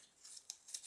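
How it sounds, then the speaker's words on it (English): Scissors snipping paper during vintage journal crafting, with several short, faint metallic cuts in quick uneven succession. "Oh, scissors need sharpening again."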